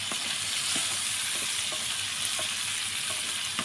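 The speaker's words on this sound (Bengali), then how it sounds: "এই গোটা রসুনগুলোও কিন্তু হচ্ছে আমি এখন এই সজনের সাথে কষিয়ে নেব" Whole large garlic cloves sauté with drumsticks in hot oil in a pan, giving a steady, close hiss of frying with faint periodic stirring taps throughout.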